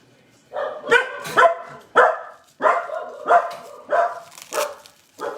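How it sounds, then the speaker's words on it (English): Several pet dogs bark at home, about eight sharp, close barks spaced at fairly even intervals with brief quiet gaps between them and no other sound competing. "every time I do a live, my dogs decide that they have to say hello to everyone"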